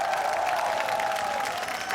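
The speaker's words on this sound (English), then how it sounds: "Round of applause for Spandauer Inferno." An esports tournament audience at Gamescom 2017 breaks into sustained applause, a dense crowd clapping steadily with faint cheering and a loud tonal hum underneath.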